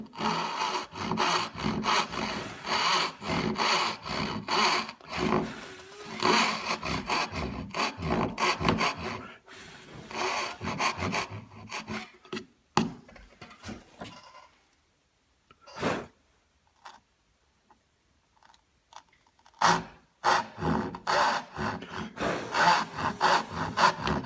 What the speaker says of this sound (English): Using my saw, I'm going to cut them basically as if I was cutting half blind dovetails